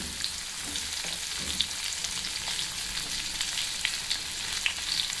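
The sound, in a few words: masala-stuffed okra (bhindi) frying in oil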